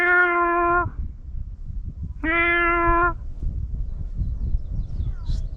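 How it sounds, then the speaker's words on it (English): A grown, probably feral cat meows twice, long drawn-out cries spaced a second or so apart, close and clear over outdoor background noise. "Well, that's a kitty, that's a grown cat."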